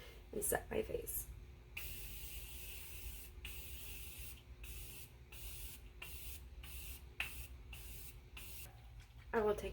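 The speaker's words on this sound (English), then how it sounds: "Tarte Maracuja Miracle Mist, and set my face." Tarte Maracuja Miracle Mist setting spray is spritzed onto a face in a long series of quick, close pump hisses, each a short airy burst separated by brief pauses, with a faint steady hum underneath.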